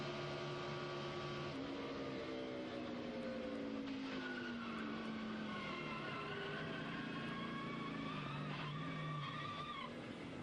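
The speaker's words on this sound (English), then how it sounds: "Kenny Wallace, he's going to spin as well." A NASCAR Busch Series stock car at Chicago spins out, its tires squealing and skidding in long sliding tones over steady engine and crowd roar, with no voices.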